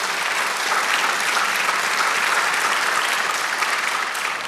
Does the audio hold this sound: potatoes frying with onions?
no